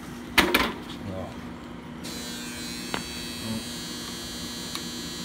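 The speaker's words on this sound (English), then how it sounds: "That's just the dryer. Just ignore that." A steady mechanical hum and buzz from a running clothes dryer runs throughout, with a few faint clunks and knocks near the start and scattered through the clip.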